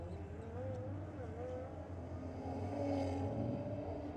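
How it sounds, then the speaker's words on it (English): A pair of Audis, including a big Audi wagon, drag racing down the strip at a drift club meet, engines droning steadily and swelling louder as they pass at moderate distance. "They're a cool looking car, the big Audi wagon"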